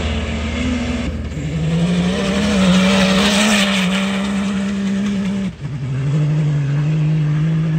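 Dakar 2020 rally car leaving the start of stage 5, a loud close engine droning at a steady pitch with a quick gear change, then pulling on under a constant roar of wind and road noise.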